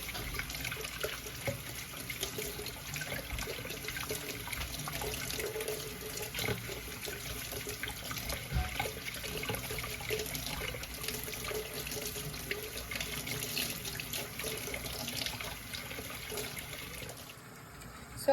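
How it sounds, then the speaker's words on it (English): Tap water runs steadily into a kitchen sink as a tomato is washed for tacos, a continuous close rushing stream lasting throughout with only a brief dip near the end. "you're gonna need to wash it thoroughly under the sink, preferably under hot water."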